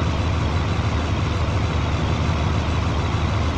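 Tractor engine in Farming Simulator 19, a John Deere of 300 horsepower or more, labours under heavy load while pulling, giving a steady, dense low rumble that holds loud and unbroken throughout.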